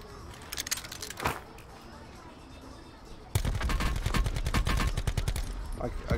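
Rapid automatic gunfire rattles in Call of Duty Blackout, a short burst first, then a sustained loud close stream of shots after a brief lull, with a voice speaking over the action.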